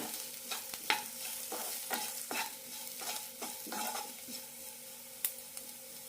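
A spoon scrapes and stirs egg roast masala in a pan with chilli powder, about a dozen rhythmic scraping strokes over a soft, steady sizzle, close and fairly quiet with no talk.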